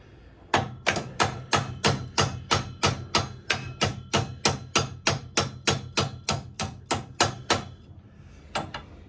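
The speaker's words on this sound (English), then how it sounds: "Tap it with a hammer or something." Steady metallic hammer taps on a bolt into a Land Rover Defender steering arm, about twenty evenly spaced blows in a quick rhythm, then a short pause and one last tap; close and fairly loud, no talking.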